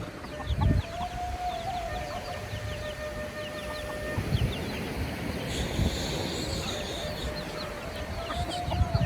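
Chickens cluck and call intermittently in an outdoor setting, with a rooster-like call and a steady background hum throughout; no one speaks.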